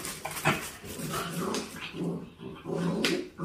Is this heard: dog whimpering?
yes